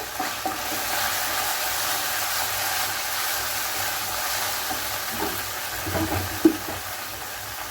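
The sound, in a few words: crushed cardamom and cinnamon sizzling in the pan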